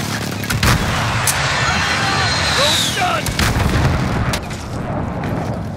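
A stun grenade bursts during a Warzone firefight, with sharp bangs and heavy gunfire crackling throughout a dense, loud battle mix.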